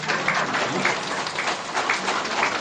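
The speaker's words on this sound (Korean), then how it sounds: "그럼 뭔 박수가 있어야 할 거 아니에요" Audience at a Korean community rally in Gimje gives brief, even applause, a dense steady patter of many hands clapping at moderate loudness with no voices on top.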